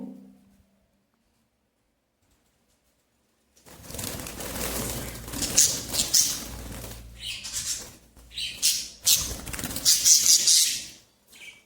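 A small bird is caught by hand and pushed into a cage: a few seconds of silence, then close, loud rustling, wing-flapping and scuffling bursts that continue in waves.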